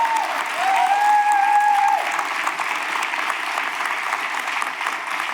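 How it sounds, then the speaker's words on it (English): Warm, sustained applause from a conference audience at a closing dialogue, full and steady across the whole stretch, with a brief whistle-like tone rising over the clapping early on. "Please give warm applause."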